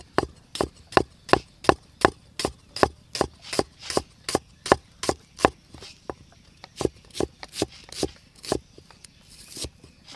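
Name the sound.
knife slicing red onion on a wooden cutting board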